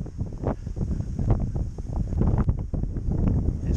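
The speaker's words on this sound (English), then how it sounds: "not too cold today, just windy." Steady, rough wind noise buffets the microphone throughout, with gusting swells and low rumbling bursts outdoors by the ocean.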